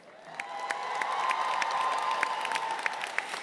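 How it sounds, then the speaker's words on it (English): An audience at a 2018 Strayer University commencement in Atlanta applauds the West Hall High School drumline from Oakwood, Georgia; dense clapping swells steadily and holds, with a few sharper claps cutting through and faint voices behind. "Let's give a round of applause to the West Hall High School drumline from Oakwood, Georgia."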